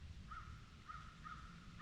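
Crows caw in a mossy forest, a few short, harsh calls repeating at a distance over a low steady outdoor hum.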